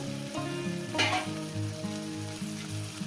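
Chicken pieces hiss and crackle as they drop into hot oil in a pan for a home-style Bengali chicken dish. There is a loud burst on contact, then a steady close sizzle with light stirring and no talk.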